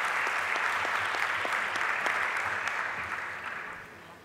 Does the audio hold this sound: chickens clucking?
no